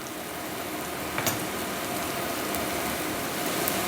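Vegetables sweating in a hot pan with a pinch of Diamond kosher salt, giving a steady, even sizzle and crackle that stays close and constant, with no talking over it.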